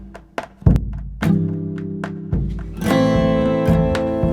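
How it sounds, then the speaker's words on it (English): A big drum in modern dance music hits with a delay effect, so each deep thump repeats and trails off; other layered tones and a sustained chord build beneath it. "So I use this big drum to get a steady pulse to it."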